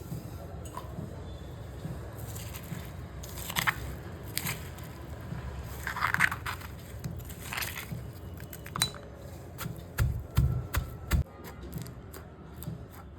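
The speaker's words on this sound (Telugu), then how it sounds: "మొత్తం అంతా కూడా మెత్తగా దంచేసుకోవాలండి" Wood apple chutney ingredients being pounded in a mortar: irregular, dull thuds and crunching knocks that come in uneven clusters, fairly close and moderately loud.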